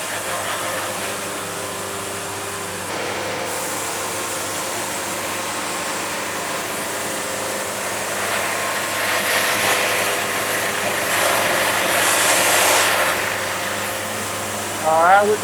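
A sawmill cuts a big muddy log into wide live-edge slabs, making a steady, loud motor drone with a whining blade that swells slightly toward the end.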